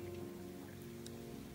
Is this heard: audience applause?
no